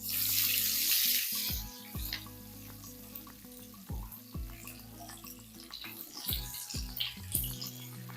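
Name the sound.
garlic cloves frying in oil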